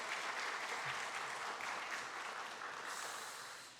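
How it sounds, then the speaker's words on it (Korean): Church congregation applauding during a Sunday worship service, a dense steady wash of clapping from a large crowd that holds level and then slowly tapers toward the end, with no voices over it. "우리 귀한 두 가정에 다시 한번 박수로 격려해 주시면 감사하겠습니다"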